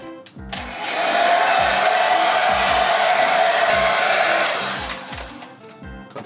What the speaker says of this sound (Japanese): ドライヤーで温めた方が色がよく入るので